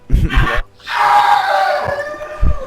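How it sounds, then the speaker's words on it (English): Screaming and shouting from a League of Legends match, a brief loud high cry after short bursts of sound, followed by a faint thump. "I hear a lot of screaming and shouting"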